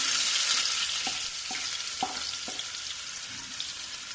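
Garlic dropped into onions frying in oil in a pan for Kuttanadan-style duck curry, a steady close sizzle with a few light stirring knocks, no voices.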